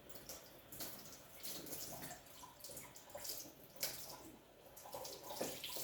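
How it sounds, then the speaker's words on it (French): Water runs from a kitchen tap over an item being rinsed, a steady, fairly quiet splashing flow with small surges and shifts as the object is moved under the stream. "Je vais la passer sous le robinet."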